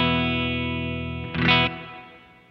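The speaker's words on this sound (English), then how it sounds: "Now I'll set up Riverside for a clean sound that just has a little bit of dirt on it." Electric guitar chord ringing through a Strymon Riverside overdrive pedal set clean with slight dirt, sustaining and slowly fading, with a brief brighter strum partway through.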